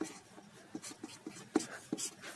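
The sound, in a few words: writing on a board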